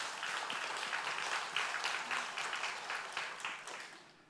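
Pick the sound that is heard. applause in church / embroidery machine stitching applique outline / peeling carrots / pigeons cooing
applause in church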